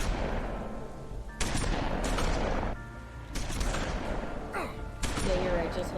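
Sustained automatic gunfire from enemies in The Wolf Among Us, a dense, unbroken volley of shots with no pause for reloading, loud and continuous over a busy game soundscape.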